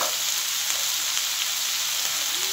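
Googli snails added to potatoes sizzling in a pan, a dense, even frying hiss close up that holds steady for a couple of seconds without talk.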